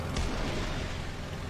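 Rocket launch from an aircraft in War Thunder, heard from inside the cockpit: a single dense, loud roaring burst with a thump at the start, then a steady rumbling wash that fills the whole short span.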